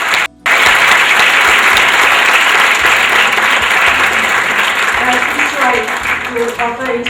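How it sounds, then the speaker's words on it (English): Loud, sustained applause from the audience at a school awards and graduation ceremony in Karachi, Pakistan. Dense clapping fills the whole stretch after a brief dropout near the start and thins slightly toward the end. "Please give him a big round of applause"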